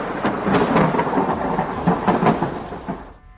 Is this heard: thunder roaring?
yes